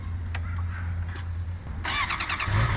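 A motorcycle engine cranks and catches near the end, a low idle hum and short starter whirr followed by a rising burst of engine noise, close and fairly loud.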